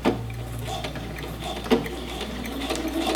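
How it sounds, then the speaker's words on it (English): Sewing machine running a regular stitch with backstitching around a fabric waistband casing, a soft steady mechanical whir with a few clicks, close and fairly quiet. "you're definitely going to do a regular stitch with back stitch"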